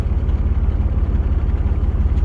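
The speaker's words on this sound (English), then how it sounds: "Here comes the truck now as we speak" A low, throbbing truck engine rumbles close by with a steady pulsing rhythm as the truck approaches at a container port, heavy and continuous for the whole stretch.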